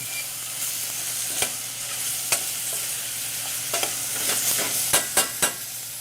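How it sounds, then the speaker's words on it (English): Carrots and onions for a pork ragù tomato sauce are stirred in a pot, a steady sizzle running under scattered scraping spoon strokes that grow sharper and more frequent toward the end. "Going to add some of our carrots. Stir this up."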